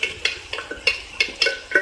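Chopped onion stirred in a pan for Thoothukudi chicken salna, with fennel seeds already fried: a quick series of about eight sharp metal scrapes and clinks of the spoon against the pan, evenly spaced and close, with no voice.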